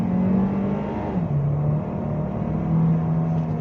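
A Maxus G50 van engine pulls under throttle from inside the cabin, a loud steady drone whose pitch dips at a gear change and then climbs again.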